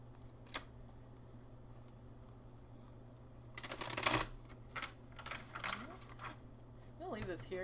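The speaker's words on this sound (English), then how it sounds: "Let's do 3 shuffles." Shuffling of a tarot card deck, heard as a few bursts of riffling and soft card slaps, the loudest near the middle, over a steady low hum in a quiet room.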